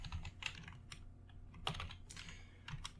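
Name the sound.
typing code on a computer keyboard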